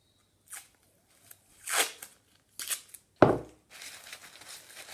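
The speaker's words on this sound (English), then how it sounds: "we're going to take some of our masking tape or sellotape and tape the two together." Masking tape or sellotape pulled and torn to join two scrunched newspaper balls: a handful of separate quick rips and crinkles, close and fairly crisp, ending in a softer, longer rustle.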